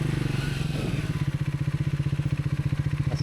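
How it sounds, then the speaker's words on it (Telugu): A motorcycle engine chugs steadily while riding along a forest road at dusk near a waterfall, its rhythmic close-up thumping loud and continuous with no other sounds. "నా బైక్ సౌండ్ తప్ప అసలు ఏమిటి ఇట్లా."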